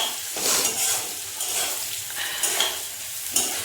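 Food is stirred in a hot pan while cooking, with rhythmic scraping strokes every second or so over a constant close sizzle and occasional light metallic clinks.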